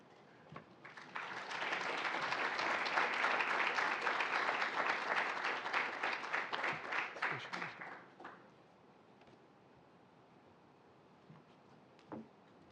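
An audience at a campus awards ceremony applauds chapel award recipients with sustained, full clapping that thins into scattered individual claps and fades out, followed by quiet with a couple of faint isolated sounds.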